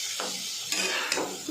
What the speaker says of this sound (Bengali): হলুদ আর শুকনো লঙ্কার গুঁড়ো দিয়ে এপিট ওপিট করে ভেজে